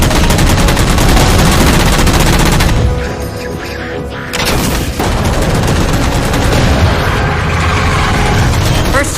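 Sustained automatic gunfire in the video game Halo 4 as jammers are shot down: rapid, loud, continuous bursts with a short mechanical lull midway, then steady firing resumes under faint game voices.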